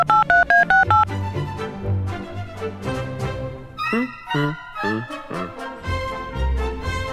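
A telephone number is dialed with a rapid run of about six crisp keypad tones at the start, followed by ringback tones and music-like sounds on a radio broadcast.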